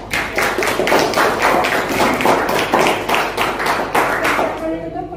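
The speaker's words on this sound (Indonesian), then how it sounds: "Oke, berikan tepuk tangan buat kelompok." A classroom applauding a presenting student group, loud steady clapping from many hands for about five seconds before it tapers off, with a voice briefly at the end.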